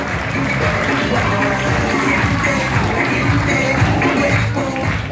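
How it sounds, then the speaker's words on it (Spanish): Party guests at a birthday celebration clap together in a sustained, dense round of applause that fills the room at steady loudness, with faint crowd murmur underneath. "a usted también los invitados le regalen un fuerte aplauso"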